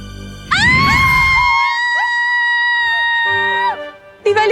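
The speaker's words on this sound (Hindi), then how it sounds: "क्यों चिल्ला रही हैं आप?" A woman's high, sustained scream in a Hindi children's fantasy TV show starts sharply and holds loud and steady for about three seconds, then breaks off. A second short cry follows at the end.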